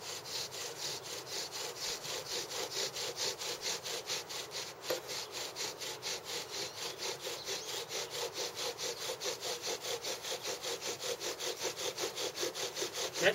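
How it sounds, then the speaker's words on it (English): Steady back-and-forth rasping of an ash spindle turned by a bow drill into a softer wooden hearth, close and loud, with an even rhythm of quick strokes across the whole stretch and no talk. "Just trying to be careful with the drilling so I don't bust through the side"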